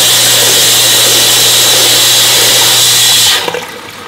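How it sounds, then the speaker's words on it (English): An Aqua Exclusive drum filter self-cleaning as dirty water drains out: a loud, steady rush of spraying water with a low motor hum runs for about three seconds, then cuts off abruptly, leaving a quieter trickle. "That's normally how it cleans, and you can see the dirty water going out to the drain."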